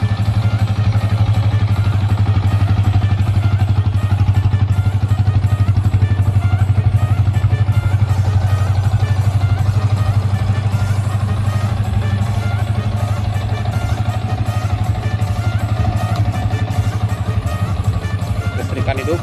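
A Yamaha New Vixion Advance motorcycle engine running at a steady idle, loud and close, with an unbroken low rumble throughout and a voice talking over it.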